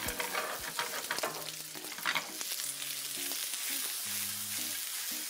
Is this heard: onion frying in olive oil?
yes